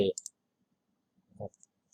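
A computer mouse clicking OK in the Eclipse IDE: a couple of sharp, close clicks at the start, then near silence, then another short burst of clicks.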